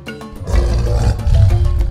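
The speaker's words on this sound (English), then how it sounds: "Lion." A loud, close lion roar rumbles deep and sustained for nearly two seconds, rising quickly after a brief softer lead-in, with a toy zoo animal set in play.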